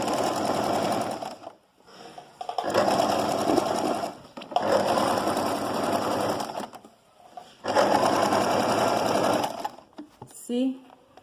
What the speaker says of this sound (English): So I'm going to sew this side also.